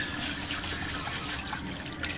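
Moong dal rinsed with water, a steady close trickle and swish of flowing liquid with light splashing throughout.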